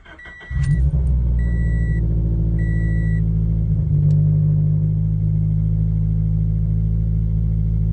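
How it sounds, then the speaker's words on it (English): A Scion FR-S fitted with a Tsudo catback exhaust fires up on a cold start, a brief cranking followed by a loud, deep, steady idle rumble close by. "I'm going to do a cold start here so that you guys can hear how it sounds when you first start it up"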